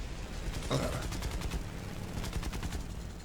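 Cannon and machine guns of an A6M5 Ko fighter plane in War Thunder fire in short rapid bursts over a steady engine drone, with two main volleys separated by a brief pause.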